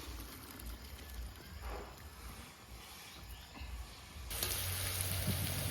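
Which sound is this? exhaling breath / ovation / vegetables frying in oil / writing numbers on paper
vegetables frying in oil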